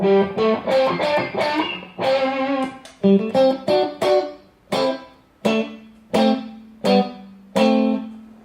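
Dry electric guitar straight through an amplifier with no reverb, a run of picked notes and chords each cutting off abruptly, close and clear, with gaps between strikes toward the end.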